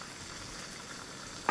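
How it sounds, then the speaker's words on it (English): An egg fries in a buttered pan, giving a steady, soft sizzle close by that holds throughout, ending in a brief sharper crackle. "I'm going to crack this egg into the pan. It should sizzle."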